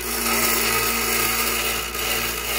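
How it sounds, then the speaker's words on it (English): Loud, steady whine of a power grinder shaping the jaws of chainmaille pliers to a chisel edge, close and continuous with a brief dip in pitch near the end, no talk. "We're going to grind that sucker. Just enough to get that nice chisel."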